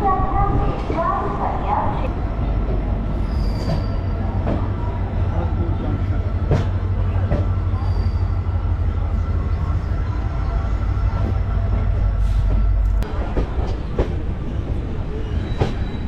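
Inside the Rupashi Bangla Express running on rails between Santragachi and Purulia, a steady loud low rumble of the carriage continues throughout with occasional rhythmic wheel clicks, and a voice talks over it.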